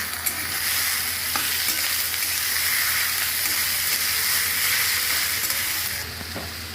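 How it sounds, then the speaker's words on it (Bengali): Chechi leafy greens fry in a pan with a loud, continuous sizzling hiss that holds steady throughout, close up, with a faint stirring knock near the start and no voices. "ছেঁচি শাকটা দিয়ে দিচ্ছি এবার আমি ভেজে নেব"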